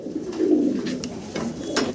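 Low, throaty coos from caged fancy pigeons roll on continuously nearby, a soft burbling murmur with a few faint clicks over it.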